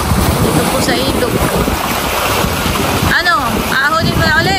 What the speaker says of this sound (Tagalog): Napakalakas po ng paglabas ng tubig.